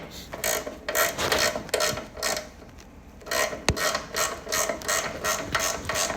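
Hand tools tightening bolts on a 47 inch John Deere snow blower during a chain drive to chain case upgrade, a close, rhythmic run of ratcheting clicks with short pauses and one sharp metallic knock.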